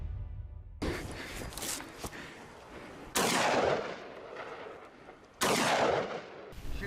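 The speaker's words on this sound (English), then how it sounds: "Continuous shooting." Rifle shots fired at a wild boar during a hunt, a few loud, sharp cracks spaced a couple of seconds apart, each with a long rolling echo across open ground.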